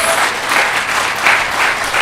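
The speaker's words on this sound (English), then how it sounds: "Can we clap for that?" Audience clapping at a book launch, loud and close, a continuous rippling patter of many hands through the whole two seconds.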